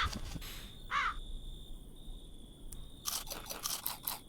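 A bird caws in the Creature Kitchen video game: a few short, crow-like calls mixed with clicky game effects. The calls are moderately loud, and no one speaks.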